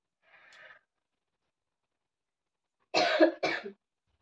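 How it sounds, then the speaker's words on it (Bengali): A person with a chesty cough, a faint short exhale first, then after a pause two loud close coughs in quick succession in a quiet room. "আজকে আবার ফুসফুস করে কাশি হচ্ছে।"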